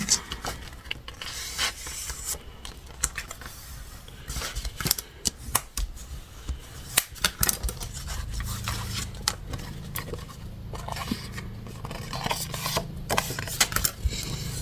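Paper flaps are scored and creased into folds for a scrapbooking page, giving soft, close rubbing and scraping strokes in irregular bursts with brief pauses between them and no voices.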